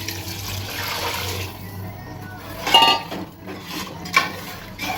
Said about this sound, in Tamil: இப்போ இதில் நம்ம தண்ணி ஊற்றலாம்.